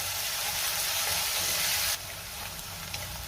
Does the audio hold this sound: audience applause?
no